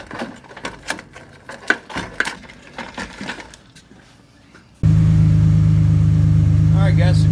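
A Ford Ranger engine that just had its fuel pump replaced cranks and starts, then settles into a loud, steady idle. Clicks and handling noises come first, and someone talks briefly over them.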